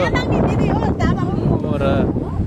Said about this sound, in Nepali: हावा लागेछ